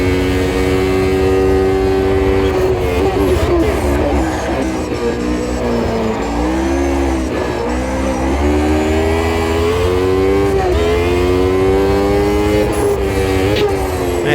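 A 1988 Formula 1 race car engine in the Automobilista 2 racing game revs hard and loud throughout, its pitch climbing and dropping repeatedly through manual H-pattern gear shifts.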